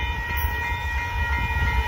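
A northbound BNSF intermodal freight train with a mid-train DPU rolls past at Dittmar Road in Austin, Texas, with a steady, loud, close rumble and wheel noise throughout.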